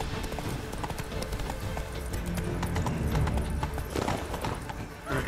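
Horse hooves clip-clop at a quick, steady gallop in The Witcher 3 video game, loud and continuous, with game audio and a voice speaking over them.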